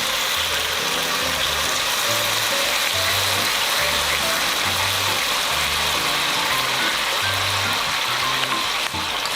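Potatoes stir-fry in a pan as soy sauce is poured in, giving a loud, continuous sizzle with a rhythmic scraping of the spatula throughout.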